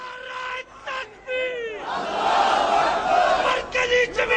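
A rally crowd bursts into a loud, massed slogan chant after a few short shouted calls from a lead voice, the roar swelling for a couple of seconds then breaking into scattered cries.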